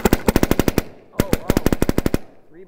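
A DM6 paintball marker fitted with a Techt bolt fires reusable Reballs in two rapid strings of loud, sharp pops, about eight to ten shots each, separated by a short pause.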